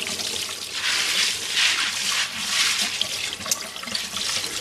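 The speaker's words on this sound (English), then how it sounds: "I'm going to give them a little rinse just to make sure that they're free of dust or any other particulate matter." Pink beans rinsed under running tap water in a sink: a continuous close, hissing splash and gurgle of flowing water that shifts slightly in intensity as the beans are stirred, with no talking.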